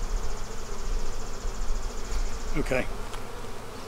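Steady insect buzzing from a crowd of honeybees fills the air during a hive inspection in a bee barn, continuous and close, with a brief spoken word partway through.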